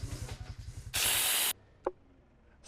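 A spray unit on a scrap-built painting machine gives one loud, steady hiss lasting about half a second. A short, sharp burst follows, with low mechanical rattling in the background.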